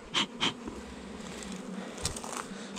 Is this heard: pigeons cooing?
no